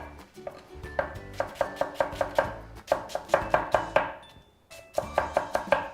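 A knife chops rapidly on a cutting board while preparing ingredients for beef rogan josh, with crisp, close, rhythmic strikes in quick bursts and a short pause midway, without talking.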